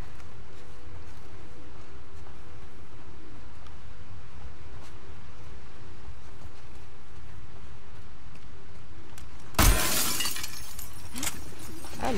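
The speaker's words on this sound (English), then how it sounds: "I love breaking some glass." Glass breaking in The Last of Us Part 2: one sudden loud shatter with a short tinkling tail, after a long stretch of quiet ambient game background.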